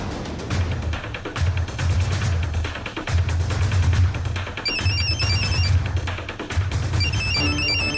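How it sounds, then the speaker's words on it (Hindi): A phone ringtone chirps in repeated bursts, loud and close, with a steady ringing pattern that pauses briefly between rings. "मम्मी का फोन आ रहा है"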